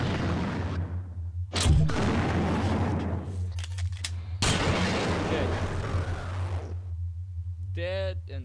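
Enemy gunfire in the System Shock 2 video game: two sharp, heavy blasts a few seconds apart, each trailing into a rough rumble over a steady low hum, with a brief voice-like warble near the end.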